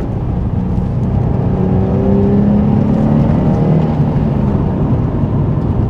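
A 2003 Nissan 350Z Track Edition with about 300 horsepower accelerating, heard from inside as a loud, steady engine drone that climbs in pitch through the revs, with a faint whir and no talk.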